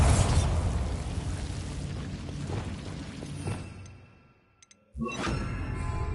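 A Bombarda blasting spell in Hogwarts Legacy goes off as a loud booming explosion that rumbles and decays over several seconds into near silence, followed by a sudden second burst with bright ringing tones.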